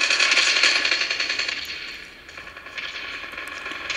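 Rapid automatic gunfire from the mobile shooter Call of Duty Mobile played on an OPPO K5 phone, a loud continuous rattle that fades briefly midway and then picks up again, with no talking.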